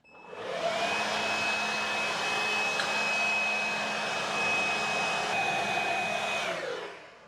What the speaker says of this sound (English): you might just get the blower in your ear